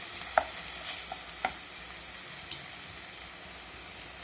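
Vegetables for egg rolls sautéing in a pan over a medium flame, giving a steady low sizzle and hiss with a few sharp clicks of a spatula against the pan.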